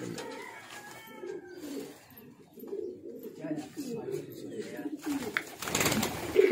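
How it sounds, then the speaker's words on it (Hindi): Pigeons kept for flying in Peshawar, Pakistan coo in low, repeated rolling phrases close by, while someone talks over and between the calls. "ये वाला कबूतर है,"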